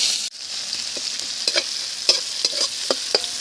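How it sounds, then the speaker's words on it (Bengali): Cumin seeds and onion sizzle in a hot pan while being stirred, a steady close frying hiss punctuated by regular scrapes of the spoon. "পেঁয়াজটা দিয়ে একটু নেড়ে চেড়ে নিলাম"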